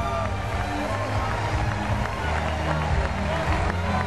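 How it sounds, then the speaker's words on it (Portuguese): A church congregation applauds during a Christmas sermon, with steady clapping and crowd noise blending with murmured voices throughout. "Você pode aplaudir"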